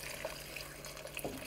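Chicken broth pours steadily into a pot with a soft splashing trickle, close by and fairly quiet, lasting only a moment.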